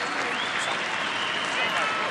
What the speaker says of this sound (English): Here they are applauding Jared Hayne as he is taken by Medicab from Parramatta Stadium